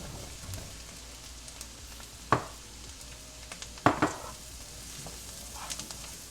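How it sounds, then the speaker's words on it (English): Mushrooms go into a pan of butter with shallots and garlic, giving a soft, continuous sizzle broken by a few sharp crackles and stirring clatters, close and moderately quiet with no voices. "Next, we're going to add our mushrooms."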